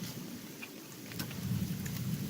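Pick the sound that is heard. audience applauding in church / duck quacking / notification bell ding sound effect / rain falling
rain falling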